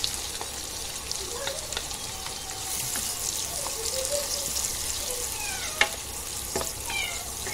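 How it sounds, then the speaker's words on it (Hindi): Onions frying in a pan for tawa gosht, a dense continuous sizzle with light stirring scrapes and a single sharp tap, steady and close. "अभी हम प्याज डालेंगे इसमें"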